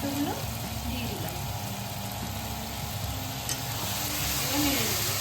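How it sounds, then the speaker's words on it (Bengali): Chopped tomatoes are stirred into a frying paturi mixture in a pan, making a low sizzle with scraping stir noises close by, and faint background voices or kitchen sounds underneath. "এবার নেড়ে দেব।"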